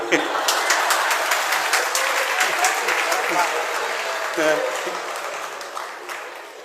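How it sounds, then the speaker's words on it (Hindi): An audience at a Jain religious sermon by a monk applauds in a steady, dense wash of clapping that holds for several seconds and then slowly fades. "फिर भी आपने मौन को, शांति को तो भंग कर ही दिया तालियों के द्वारा।"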